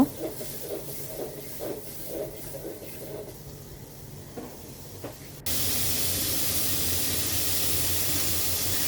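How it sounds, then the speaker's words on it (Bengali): Bitter gourd and potatoes are tipped into a pan with onion and begin frying, a sudden loud, steady sizzle that follows a stretch of quieter kitchen sounds with some faint talk. "তো আমি এখানে করলা আর আলুগুলো পেঁয়াজের সাথে হালকা ভেজে নিব"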